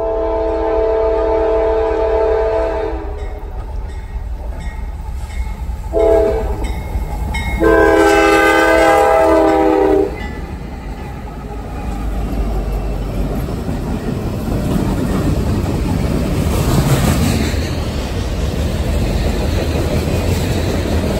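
Steam locomotive 611 Class J passes with several loud, sustained horn blasts followed by a heavy, rumbling roar of the train rolling by close up.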